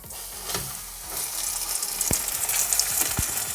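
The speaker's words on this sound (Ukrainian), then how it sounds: "і тепер ставлю на сковорідку" Steady frying sizzle of flour-dredged crucian carp in a pan over low heat, with a couple of sharp clinks and light stirring noises over the crackle.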